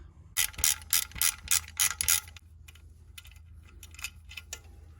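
Ratchet loosening an 8mm idler pulley bolt on a 2013 Ford Explorer engine, a rapid series of about eight loud clicking ratchet strokes, then softer, sparser clicks as the bolt frees, close and alone.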